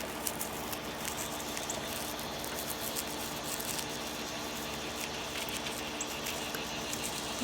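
Marigold seeds shaken loose from their dry husks make a continuous fine pattering and rattling, close and steady for several seconds with no talking.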